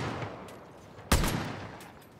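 A single sharp gunshot in Far Cry: New Dawn cracks out mid-clip over a low, noisy game background, followed by a few faint distant pops.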